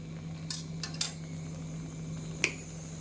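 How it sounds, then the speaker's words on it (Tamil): An egg is tapped and cracked on a pan over a cooked-down onion masala for egg thokku, giving a few short, sharp clinks and taps near the mic over a steady low hum. "இந்த ஸ்டேஜில் நான் ஒரு முட்டை எடுத்து வச்சுருக்கேன். அதை இதில் உடச்சி விட்டுக்கலாம்."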